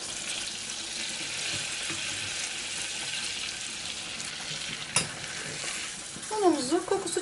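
Butter and flour roux for béchamel sizzling steadily in a pot, with a spoon stirring and scraping through it close up; a brief clink and some watery swishing near the end.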